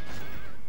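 A horse in Medieval II: Total War lets out a loud, close whinny lasting under a second, a shrill wavering neigh over dense battle noise.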